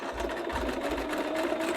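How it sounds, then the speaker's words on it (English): A home sewing machine runs continuously, straining slightly through a thick seam, with a steady mechanical whir and a rapid needle chatter that never stops. "my sewing machine wasn't particularly happy about it, but it did it"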